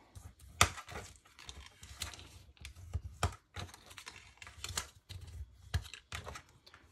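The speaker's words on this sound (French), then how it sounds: "On va marquer les plis." Scrapbooking paper being creased into folds for a pop-up album, a run of soft close taps, rubs and crackles at an uneven pace, quiet with no talk.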